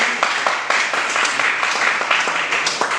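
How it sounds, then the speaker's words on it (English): Applause from an audience at a constitutional talk event, a fairly loud, steady patter of many hands with sharper individual claps popping out at irregular points, no speech over it. "A big round of applause for the."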